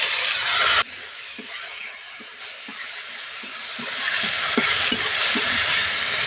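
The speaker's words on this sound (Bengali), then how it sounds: "টমেটোটা পেঁয়াজের সঙ্গে একটু ভালো করে ভেজে নিতে হবে" Chopped tomatoes fry with softened onions in a pan, a continuous close sizzle punctuated by regular spatula taps and scrapes against the pan, growing slightly louder toward the end.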